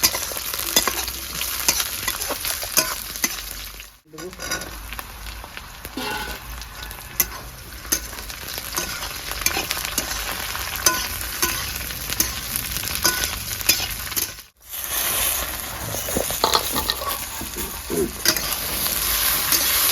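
Onions and green chilies fry in fish oil in a rural Bengali kitchen while being stirred, giving a steady close sizzle with scraping stir strokes and two brief breaks in the sound.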